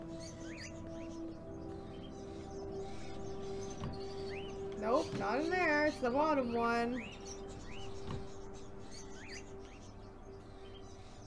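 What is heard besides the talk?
birds chirping in video game Fahrenheit: Indigo Prophecy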